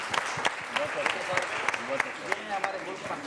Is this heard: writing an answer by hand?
no